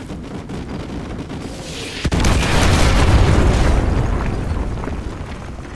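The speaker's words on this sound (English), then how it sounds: "Fire mission received. Artillery inbound." A sharp crack opens into a loud, rolling roar of artillery strike explosions in Call of Duty: Modern Warfare 2 Remastered, swelling and slowly fading with no talk.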